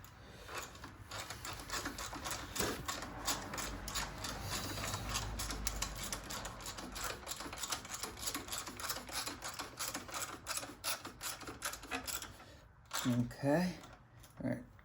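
Allen bolts on motorcycle foot pegs being cranked tight, a continuous close grinding rasp of the wrench working, with a voice speaking near the end.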